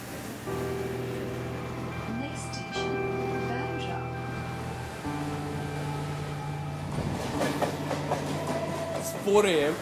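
A local commuter train rumbles along steadily with droning tones and rattling carriages, speech murmuring faintly through the cabin noise.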